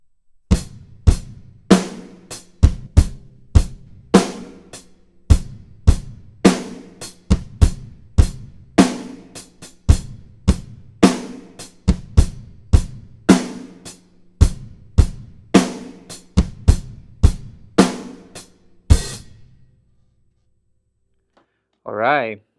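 A church drum groove played slowly on a drum kit, with steady, evenly spaced kick, snare and cymbal hits repeating for about nineteen seconds before stopping, followed by a brief voice at the end.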